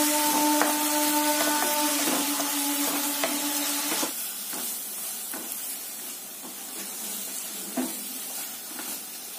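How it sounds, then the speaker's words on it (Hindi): Onions fry in hot oil until golden brown while kofta curry is prepared, giving a steady broad sizzle with occasional spoon scrapes and taps against the pan; a faint tonal hum fades out partway through. "देखिए मेरा प्याज गोल्डन ब्राउन हो गया है।"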